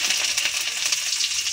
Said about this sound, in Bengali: এবার দিয়ে দিচ্ছি রসুন ফোড়ন।